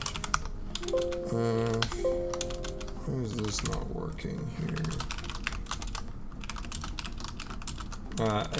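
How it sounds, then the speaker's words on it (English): Someone types on a computer keyboard in bursts of quick, close key clicks, with someone talking over parts of it. "I'm just typing on my other window."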